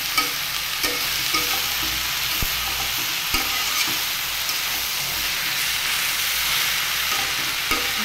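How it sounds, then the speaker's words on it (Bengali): Cabbage and lentils fry over low heat in a pan, giving a loud continuous sizzle and hiss with regular scraping strokes of a spoon stirring close up, no voices. "এটা এভাবে আস্তে আস্তে জাল দিয়ে যাতে নিচটা লেগে না যায় এরকম নাড়তে নাড়তে ভাজতে হবে"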